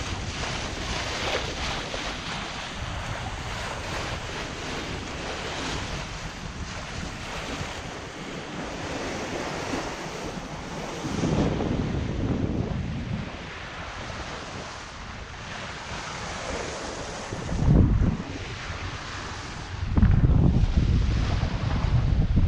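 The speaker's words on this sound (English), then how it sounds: "Sailing on a rolly old sea along the northeast coast of the US" Wind and rolling ocean swell around a Hallberg-Rassy 54 sailboat off the US northeast coast, steady gusty rush with wind buffeting the microphone and louder surges of water near the end.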